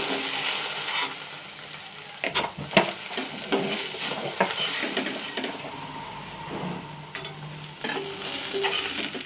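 Sliced okra fries in a pan with a continuous crackling sizzle, a spatula stirring and scraping through it in bursts, close up and without speech.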